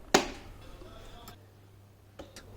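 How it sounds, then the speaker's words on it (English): Handle latches on a Karcher FC5 floor cleaner snapping into place: one sharp, loud click up close, then a lull and a pair of fainter clicks near the end, with no talking. "Press the handle until you hear the sound of latches"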